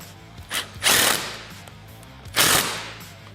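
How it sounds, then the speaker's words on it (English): A socket ratchet turns a 13mm strut nut on the windshield of a Polaris RZR Trail S 900, with the opposite side held by a 12mm wrench. Two short bursts of close ratcheting clicks stand out against a quiet background. "take our nut, which will be the last piece of hardware in the kit, take a 12mm wrench and then a 13mm socket."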